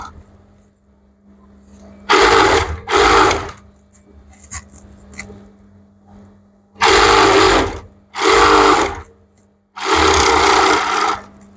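A sewing machine stitches a winter sleeve in five loud, close bursts of rapid running, separated by short pauses filled with a low steady hum and light handling noises.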